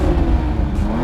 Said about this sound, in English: the engine in sport mode for rapid response and a louder exhaust noise